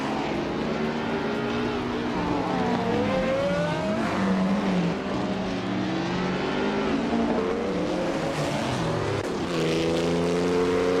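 Race cars in a racing video game, including a 1950s Bugatti Type 251, jostle for position: layered engine whines rise and fall in pitch as cars accelerate and overtake, a steady loud roar throughout with no talk.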